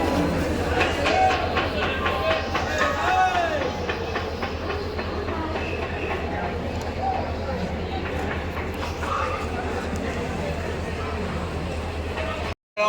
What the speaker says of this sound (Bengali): 1 ঘন্টা পর তবে ট্রেন এলো।